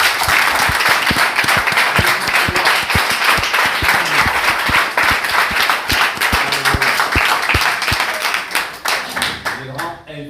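A church congregation claps steadily in dense, loud applause that tapers off near the end, with voices mixed in.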